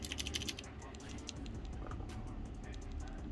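Typing on a Redragon Kumara mechanical keyboard, a quiet, fast patter of keystrokes, faint and close with no voices over it.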